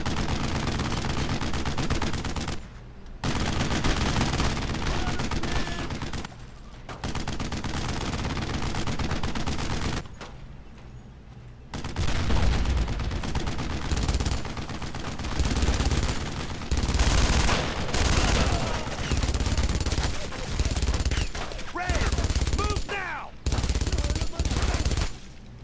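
Rapid machine gun bursts and gunfire rattle through a World War II shooter, Brothers In Arms: Road to Hill 30, loud and near, broken by brief pauses, with a voice speaking at times amid the shooting.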